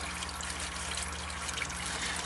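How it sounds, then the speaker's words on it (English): Engine oil from a MINI Cooper S drains into a pan in a steady, quiet trickle, a continuous liquid stream with faint drips over low background hum. "As the oil finishes draining, it'll come down, and make sure that these drips here are not getting onto the floor."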